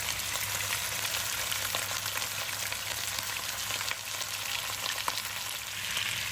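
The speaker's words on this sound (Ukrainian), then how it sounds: "додаємо соняшникову олію та кидаємо туди наше м'ясо" Steady, dense sizzle of beef cheeks frying in hot sunflower oil in a pot, a continuous crackling hiss with occasional sharper pops, no talking.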